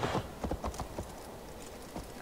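A handful of distinct horse hoof clops in Assassin's Creed Valhalla, close and uneven, a short cluster of steps that slows and pauses before one last step.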